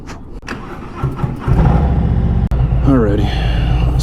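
Motorcycle engine cranking and catching after a fuel stop in Tucson, rising into a steady low idle with a brief rev; a voice talks over it.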